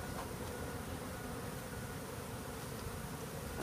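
Dense, steady buzzing of many honey bees from a whole hive being removed from a window in Edinburg, Texas, a continuous close swarm drone throughout with no talking.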